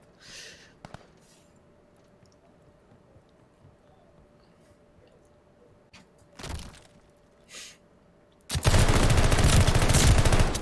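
Gunfire in a Call of Duty collegiate match: faint scattered shots and brief bursts early on, then a loud sustained volley of automatic fire dominating the final two seconds, with no speech.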